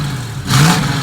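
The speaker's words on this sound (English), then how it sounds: "We're gonna hear how old school muffler sounds." A 1965 Ford Mustang engine with an old school muffler gives a short, loud rev, a deep rumble swelling up from idle, close by.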